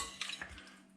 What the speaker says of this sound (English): stir the meat around until the spices cover it